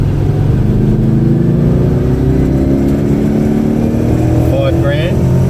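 1985 Jaguar XJS engine pulling hard uphill in first gear on a mountain road, a loud, continuous low growl with steady droning harmonics throughout, heard from inside the car.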